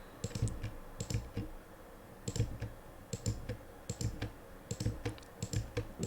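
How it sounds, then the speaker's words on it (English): Computer keyboard keys pressed during photo retouching work, close clicking taps in small irregular bursts, quiet and alone with no talk. "press Alt on your keyboard"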